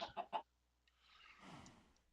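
Minecraft chicken in the video game giving three quick clucks in a row, followed by a soft, faint rustling wash of game noise.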